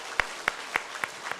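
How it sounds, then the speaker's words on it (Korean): A church congregation at a Christmas thanksgiving service claps in a sparse, evenly spaced run of about five distinct claps, moderately near, with no talking over them. "우리 박수하겠습니다."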